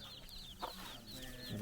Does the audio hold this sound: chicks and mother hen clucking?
yes